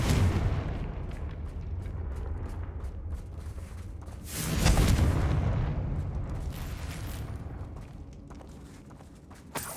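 In the Hogwarts Legacy video game, a Confringo fire spell lands as a deep, rumbling blast midway through, set against a busy background of scattered thumps and crackles, with no speech.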